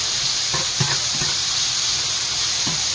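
Onions sizzling steadily in hot oil with salt and spices, stirred with tongs, the close, loud frying hiss broken by a few soft scrapes and clacks of the tongs.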